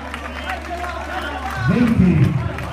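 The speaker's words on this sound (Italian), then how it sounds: "Signore, un applauso" An audience at an outdoor competition bursts into applause and cheering after a faint steady background, rising in the final second over a low murmur.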